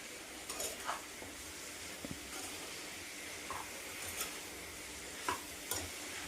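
Half a kilo of brinjals is stirred in a pan with a soft background sizzle, the spoon giving intermittent scrapes and light taps against the pan, fairly quiet and without speech.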